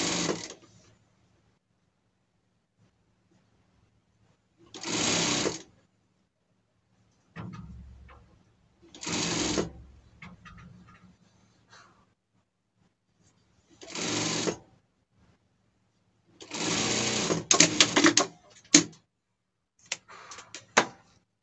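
Overlock sewing machine stitching fabric while a costume is sewn, running in several short loud bursts separated by pauses, close up and alone.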